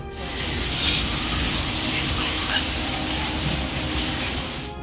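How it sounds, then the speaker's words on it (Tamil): Heavy summer rain pours during a thunderstorm with strong wind and hail in the Thudiyalur and Vadamadurai areas of Coimbatore, a steady, dense roar of falling water throughout, loud and unbroken, with no voices. "கோவையில் துடியலூர், வடமதுரை உள்ளிட்ட பகுதிகளில் இடியுடன் கூடிய கனமழை பெய்துள்ளது."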